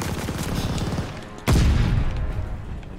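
Gunfire crackles through a Call of Duty: Vanguard campaign fight, a steady patter of shots capped by one loud, sudden blast midway that booms and then trails off under continuing fire.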